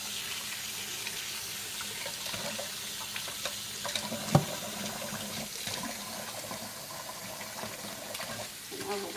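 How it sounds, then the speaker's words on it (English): Tap water runs steadily into a sink as flour is washed off hands while baking bread, a continuous soft hiss with faint splashing and one brief clunk near the middle. "So we'll wash all of the flour that you currently have on your hands off."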